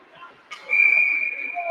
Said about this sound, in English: an offsides whistle